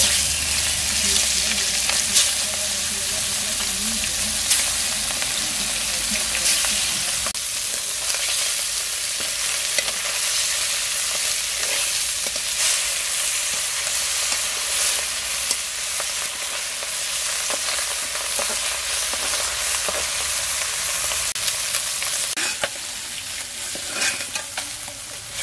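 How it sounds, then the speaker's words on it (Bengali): River fish fry in hot oil with a steady, loud sizzle that carries on throughout, mixed with occasional stirring and clatter in a village kitchen. "তেলে বাকি মাছগুলো ভেজে নেব।"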